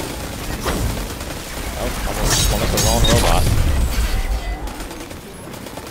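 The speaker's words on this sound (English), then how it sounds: "Gunfire going on as well." Bursts of rapid gunfire and booms in Destiny 2 Beyond Light, with the clatter swelling midway and easing off toward the end while a player talks over the battle.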